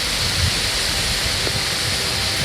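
Bambarakanda waterfall in Sri Lanka rushes at night as a steady, dense roar of falling water, unbroken and fairly loud throughout, with no voices.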